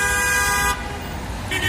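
A car horn honks in one long, loud blast amid busy street traffic in Mezitli, Mersin, Turkey, followed by engine rumble and a second short honk at the end.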